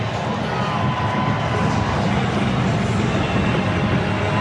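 A soccer stadium crowd roars steadily after a San Jose Earthquakes goal against Minnesota United, a broad sustained cheer with shouts mixed in and a commentator's voice faintly over it.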